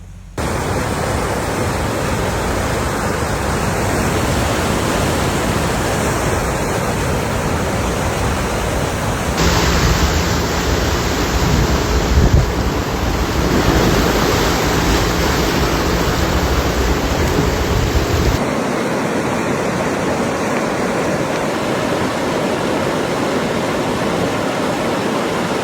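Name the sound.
fast-moving floodwaters rushing through town, Hudson Valley, New York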